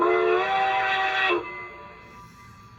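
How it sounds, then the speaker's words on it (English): An LGB 2119 Lake George & Boulder model locomotive's Zimo sound decoder plays a short steam whistle, a bright, harmonic-rich blast lasting just over a second that cuts off, leaving a faint lingering hum. "and then F2 is the short whistle"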